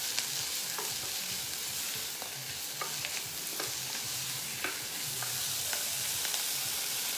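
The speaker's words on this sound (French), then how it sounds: "je vais rajouter mon jambon que je viens de découper en fines tranches là. Je vais faire revenir." Thin ham slices sautéing in a pan, a quiet steady sizzle broken by scattered clicks and scrapes of stirring, with no talk.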